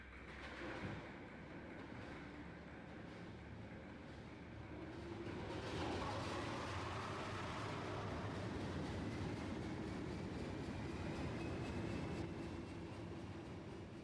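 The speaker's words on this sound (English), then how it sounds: "Hood's first revenue-earning runs took place on the Severn Valley Railway on the 8th of May" A Class 50 diesel locomotive working on the Severn Valley Railway rumbles steadily, with broadband rail noise that swells after a few seconds and holds loud and continuous, with no voices.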